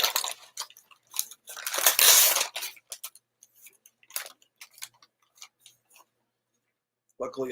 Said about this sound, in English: Luckily, I have this pair of scissors.